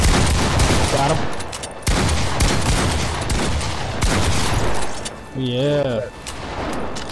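Fortnite gunfire crackles in rapid bursts throughout, loud and close, while a voice talks over it.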